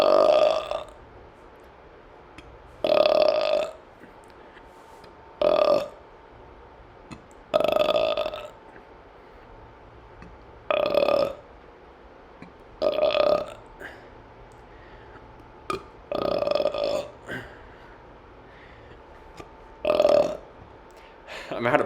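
A person burps repeatedly in loud bursts of about a second each, spaced a couple of seconds apart, with quiet pauses between them.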